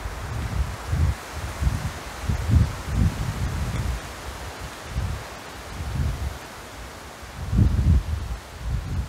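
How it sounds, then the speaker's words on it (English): A gust of wind sweeps through leaves outdoors, rustling steadily and rising in rolling surges, with low rumbling buffets against the microphone. "Here's a big gust of wind."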